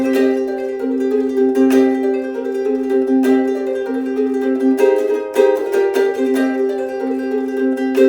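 A plucked ukulele plays bright notes with quick slurred pull-off phrases, steady and close, with no talking.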